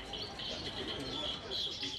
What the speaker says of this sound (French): Les Chinois promènent leurs oiseaux en cage.